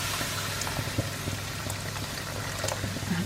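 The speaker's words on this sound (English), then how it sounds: "I'm just going to add in a bit of hot water there." Hot water poured into fish stock for a prawn curry gives a continuous, even hiss and bubbling splash of liquid, close and steady throughout, with no talking.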